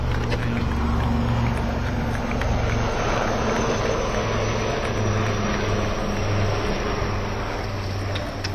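Indigenous LCH light combat helicopter in flight, a steady loud broadband rotor and engine roar with low rhythmic thumping held throughout, continuous and close.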